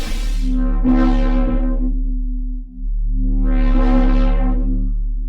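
A pure synthesized sine tone with overtones, its level modulated by an LFO in a drum and bass sound design patch, swells up, fades, then swells again in a second slow rise, steady and continuous.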